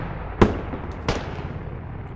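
M16 rifle gunfire in a squad video game, two sharp shots about two-thirds of a second apart over steady background game noise, with a faint third crack at the end.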